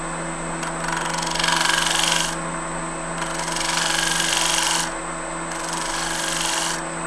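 A fluteless bowl gouge pull-cuts the rim of a wooden bowl on a lathe, giving rasping scraping passes that rise and fall in three strokes over a steady motor hum.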